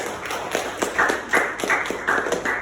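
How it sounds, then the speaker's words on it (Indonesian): A small group in a classroom applauds group 2, a fairly quick, even patter of hand claps of moderate loudness with no talk over it. "Tepuk tangan untuk kelompok 2"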